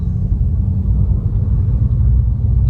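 A car driving slowly below the speed limit, heard from inside as a steady, low engine and road rumble that stays even throughout with no voices.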